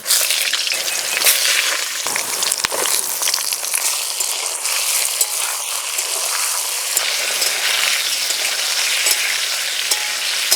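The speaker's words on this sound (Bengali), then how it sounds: "মাছ ভাজা তেলেই বেগুন ভেজে নেব।" Eggplant frying in oil already used to fry snakehead fish, on a high flame: a loud, dense, continuous sizzle with occasional crackles, close and without talk.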